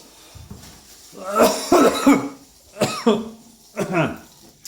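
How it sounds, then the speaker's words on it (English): A coughing fit after eating spicy chilli with rice: several harsh, close bursts come in quick clusters about a second apart, mixed with throaty vocal sounds. "I have some chilies and I get a coughing fit."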